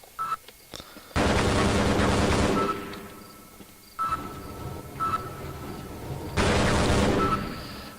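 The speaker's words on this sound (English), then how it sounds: "so there's a big security turret right there." Security turret in Half-Life firing two long bursts of rapid gunfire, loud and harsh, separated by quieter game ambience and a few short clicks and beeps.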